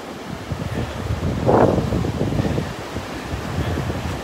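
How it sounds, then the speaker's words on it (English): Wind blows on Delnor-Wiggins beach and buffets the microphone, making a steady roaring rumble. A stronger gust swells briefly near the middle, and no voices are heard. "Walking into the wind here."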